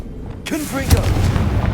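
A Confringo fire spell from Hogwarts Legacy: a sudden sharp burst followed by a heavy, booming impact and a sustained rumbling roar, with a brief voice overlapping the start.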